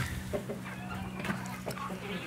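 Chickens on a small farm cluck intermittently at close range, with soft scattered calls and a faint low hum beneath.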